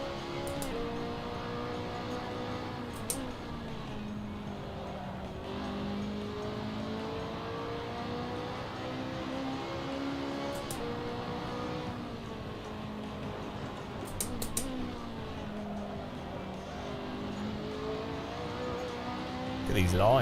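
Race car engines from the iRacing sim game, played on a handheld, drone steadily through the whole stretch with shifting pitch as the cars accelerate and ease off, with a few brief clicks on top.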